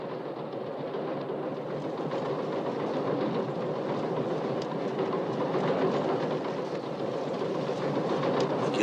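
Steady rumble and rolling clatter of a passenger train running between stations on the way to Oceanside, heard from inside as a continuous even drone with no voices.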